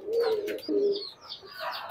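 Golden teddy pigeons from a loft coo close by, with two low rolling coos in the first second and lighter chirping calls following, no talk over them.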